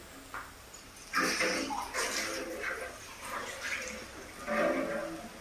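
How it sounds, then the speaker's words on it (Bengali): Water pouring into a Bengali prawn curry in a pan, a hissing, splashing pour that starts after a brief clunk and swells in bursts over the bubbling pot. "তো এখানে আমি অল্প পরিমাণে জল দিয়ে দিচ্ছি"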